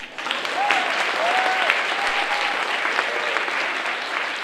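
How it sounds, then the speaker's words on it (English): Steady applause from a crowd at a Martin Luther King Jr. community celebration fills the whole stretch, sustained and even, with a faint voice or two underneath. "Okay, now we can clap."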